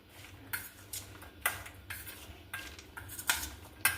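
A spoon mixes chickpea chaat with fresh green coriander in a bowl, making about eight quiet, evenly spaced clinks and scrapes against the dish. No voices are heard.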